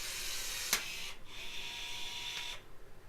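A Milwaukee M12 cordless rivet gun sets a rivet, giving a sharp snap followed by a brief whirring motor run, close and quiet.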